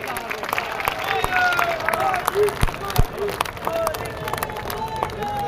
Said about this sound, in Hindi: आप सब जोरदार समर्थन करें इसका, जोरदार तालियां बजाएं, जोरदार।